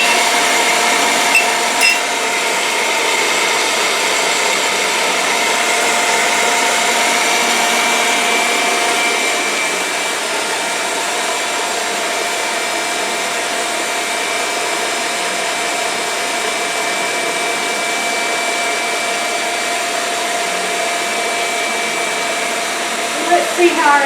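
An electric mixer whips egg whites with granulated sugar for banana pudding, a loud, steady whirring hum that holds evenly for a long stretch and drops slightly in pitch partway through.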